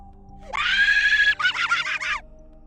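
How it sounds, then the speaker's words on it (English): A high-pitched scream erupts during a drawing livestream, one sustained wail followed by a second broken, wavering burst, loud and close with no talk over it. "Who's screaming right now?"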